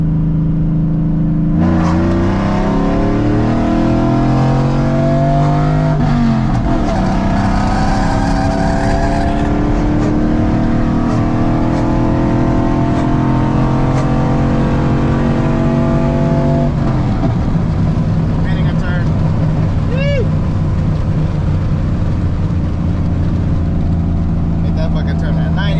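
Chevy Silverado with a 4.8 V8, headers and cold air intake revs hard and accelerates through the gears, loud and close with rising engine pitch and shift breaks, a voice talking briefly over it.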